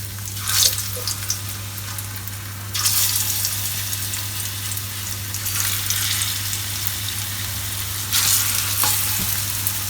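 Steady sizzle of plantain frying in a pan, a continuous hiss with occasional louder bursts and a low hum underneath, no voices.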